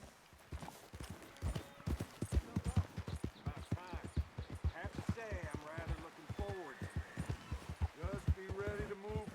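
Horse hooves clip-clop in Red Dead Redemption, a steady rhythm of close hoof falls running under nearly continuous game dialogue from several voices.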